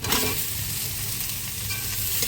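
Boiled potato and papaya stirred into spice paste frying in a pan, a steady close sizzle with scraping spoon strokes throughout, no voices.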